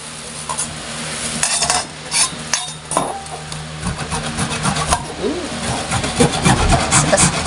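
Carrots rubbed against a kitchen grater in a home kitchen, a steady scraping and rasping that comes in repeated strokes at close range, with a few clatters and quiet background talk.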